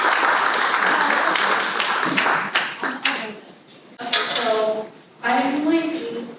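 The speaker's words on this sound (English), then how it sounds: "we can give her a round of applause to Daisy" Audience applause for Daisy at a small event, clapping that fades out over a few seconds, followed by a person speaking close to the mic.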